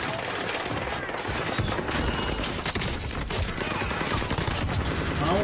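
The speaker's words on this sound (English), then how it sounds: "I'm taking fire." Dense, continuous video game gunfire with rapid automatic bursts layered over a busy mix of other game sounds, loud throughout.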